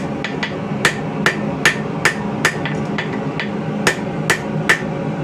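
A hammer strikes hot steel to flatten a forged feather knife handle, with about a dozen loud, ringing blows in an uneven rhythm, close and without speech.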